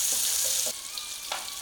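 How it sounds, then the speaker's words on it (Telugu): Curry leaves hitting hot oil with baby potatoes frying in a pan, a loud steady sizzle that flares briefly as the leaves drop in, then settles to a softer crackle. "కొద్దిగా కరివేపాకు ఇప్పుడు వేస్తున్నాను."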